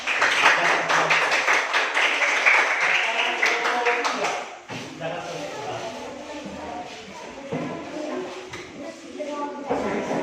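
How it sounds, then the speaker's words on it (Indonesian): A classroom of students applauds a presenting group with a dense burst of clapping lasting several seconds, which then fades as a person begins speaking. "berikan tepuk tangan kepada kelompok 4"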